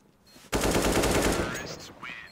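AK rifle gunfire in Counter-Strike on the Mirage map: a loud, sustained burst of rapid automatic shots starting abruptly and running about a second and a half, followed by fainter game sounds.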